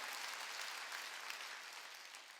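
A church congregation at a Sunday worship service claps together in a brief burst of dense, even applause that fades slightly toward the end.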